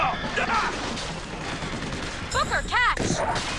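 Hand cannon gunfire in BioShock Infinite erupts in a burst of sharp shots over a busy, noisy background, with a few ricochet-like whines near the end.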